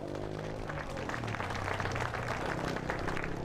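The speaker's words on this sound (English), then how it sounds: "Give a big round of applause for Trent Pickle." An audience at a Canadian flat track motorcycle race applauds a rider, with broad steady clapping from the crowd over a low droning engine hum.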